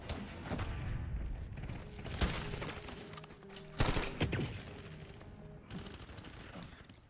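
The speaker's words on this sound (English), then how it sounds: "These turrets are so frustrating." Rapid automatic turret fire in Call of Duty Black Ops 7 rattles in sustained bursts, punctuated by a few heavier booming impacts and mechanical clatter, loud and continuous throughout.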